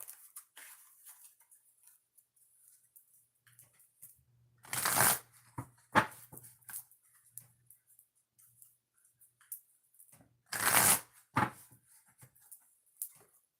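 Oracle cards are riffled and shuffled by hand in two distinct loud bursts about six seconds apart, with faint taps and card handling between them.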